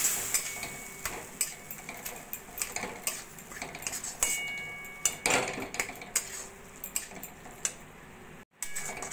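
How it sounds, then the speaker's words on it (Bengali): A spoon or spatula scraping and clinking against a pan while date paste is mixed with cashews for dry fruit modak, in irregular close taps and scrapes over soft room noise. "খেজুর দিয়ে ভালো করে এইভাবে কাজুর সঙ্গে মিশিয়ে নিচ্ছি"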